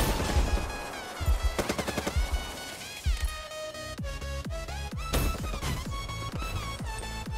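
Automatic weapon gunfire in the Black Ops 3 video game, rapid bursts and single shots in quick succession, fairly loud and steady, with game sounds behind and no talking.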